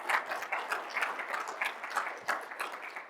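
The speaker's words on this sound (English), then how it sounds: "round of applause for Brian, please." Audience applause for a presenter named Brian at the end of his talk, a steady patter of many hands clapping that swells and dips over a few seconds, moderately near and without talk over it.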